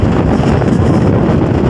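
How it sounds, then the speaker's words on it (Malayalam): On an Idukki hilltop, a strong wind batters the microphone in a short, constant, loud buffeting rush, heard on its own. "നല്ല രീതിക്ക് കാറ്റുണ്ട്."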